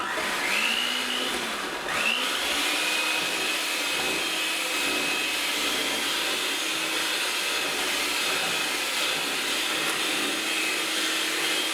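A loud, steady electric mixer beating caramel icing whirs continuously at close range, a constant buzzing roar with slight shifts in pitch.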